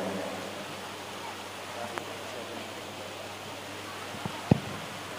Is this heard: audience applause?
no